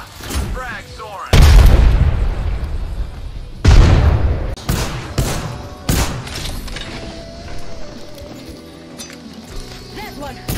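Frag grenade explosions in the Apex Legends video game: two loud, deep booms a couple of seconds apart, then a string of sharper impacts and cracks fading into quieter game noise.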